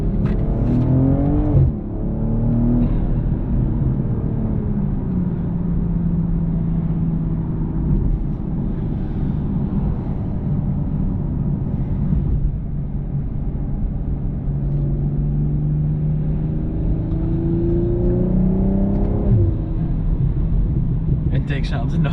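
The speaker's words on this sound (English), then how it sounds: "The intake sounds so much different on the Gen 2s than the Gen 1s" A BMW M240i G42 pulls hard with a deep, steady intake drone and rising engine note heard from inside the car, its pitch climbing and falling through gears, with a voice talking over it.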